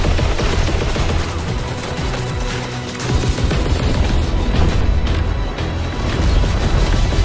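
Dense, continuous gunfire from a Call of Duty WW2 multiplayer battle, rapid rifle and machine-gun bursts with heavy booms and crashes layered throughout, loud and relentless with no pauses.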